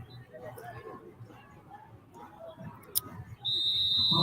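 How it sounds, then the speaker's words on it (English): A referee's ready-for-play whistle at a women's football game between the Oregon Cougars and Portland Fighting Shockwave: one sustained, piercing blast starts near the end and holds steady over a murmuring stadium background. "And there's the ready for play whistle."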